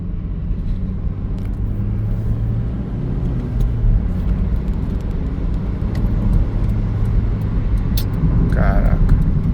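A Chevrolet Omega sedan fitted with Australian wheels cruises along a road with a shaking, vibrating wheel fault. A steady loud cabin rumble of the tires and engine persists throughout.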